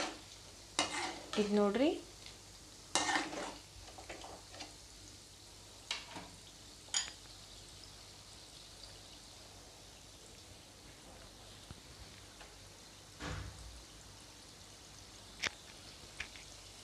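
Peanuts are stir-fried in a pan for masala peanuts, giving a soft steady sizzle broken by scattered scraping and clattering stirs, the loudest near the start, while a voice speaks briefly.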